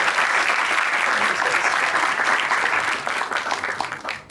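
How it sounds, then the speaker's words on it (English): Applause for a panel of speakers at a public discussion, a full burst of clapping that holds steady for about three seconds and then tapers off unevenly. "I would like everybody to give a big round of applause to them."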